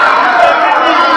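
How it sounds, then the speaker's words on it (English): A crowded parliament chamber erupts in a dense, steady roar of booing and shouting from many voices at once, loud and continuous throughout. "They interjected with all the booing and the shout."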